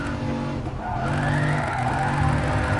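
Racing car drifting on a PS4 track, the engine held at high revs with tires squealing and skidding through a sustained oversteer slide, loud and continuous throughout.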